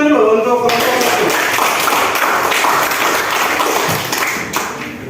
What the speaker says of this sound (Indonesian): kita tepuk tangan dulu untuk kelompok satu